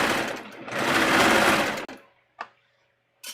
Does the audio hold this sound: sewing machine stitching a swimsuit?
yes